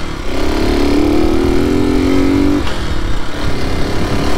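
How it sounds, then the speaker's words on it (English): Honda SS90 four-speed motorcycle accelerating up through the gears on a ride, its small engine loud and close with a rising buzzing note that drops at a gear change before pulling again. "Up through the gears nicely."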